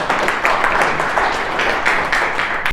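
Audience applause welcoming a guest lecturer at a business seminar, dense steady clapping throughout at fairly loud, close level.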